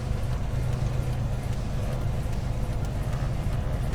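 Beech 18 radial engines warming up in Microsoft Flight Simulator 2020 make a steady, heavy, low rumbling drone with a faint rough pulse, continuous and close, without speech.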